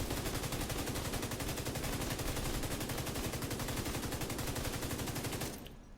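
Sustained rapid automatic gunfire from a Striker's Gunner build in a video game, loud and close, an unbroken fast stream of shots that stops abruptly near the end.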